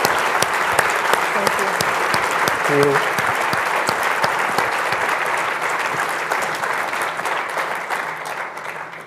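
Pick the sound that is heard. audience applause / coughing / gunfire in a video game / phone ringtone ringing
audience applause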